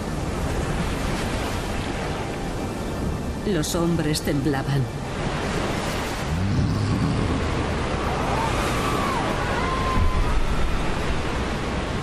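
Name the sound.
whirlpool water crashing loudly on rocks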